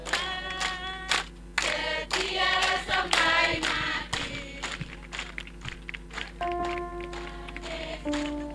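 A church congregation claps in rhythm while singing a hymn, sharp hand claps landing in a steady beat under the voices and a sustained musical drone.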